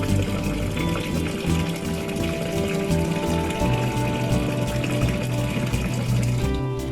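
Water pours into cooked rice in a pressure cooker, a close, continuous splashing gush that holds steady for the whole stretch with no voices.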